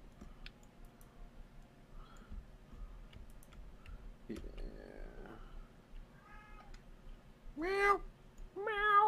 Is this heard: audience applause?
no